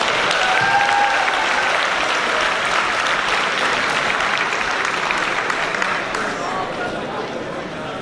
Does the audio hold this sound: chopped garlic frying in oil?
no